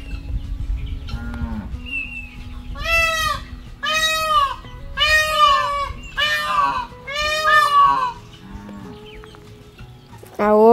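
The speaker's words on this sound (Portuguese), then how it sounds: "Escutaram os pavão gritando pra vocês?" Peafowl on a countryside farm give about five loud, wailing calls in quick succession, close by and strongly harmonic, over a low rural background rumble.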